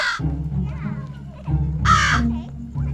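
A crow caws in a cartoon scene, with a short call at the start and a louder, harsher caw near the middle, heard over a steady music bed with voices speaking.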